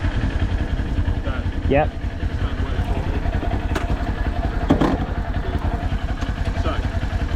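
A motorcycle engine on an A2-licence practice bike idles with a steady low rumble throughout, while people talk over it close by.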